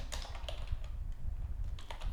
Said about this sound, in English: we're going to just type in form.